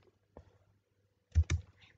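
A few quick keystrokes on a computer keyboard while writing Java code: one isolated tap, a pause, then a pair of close clicks, near and fairly quiet with no voice.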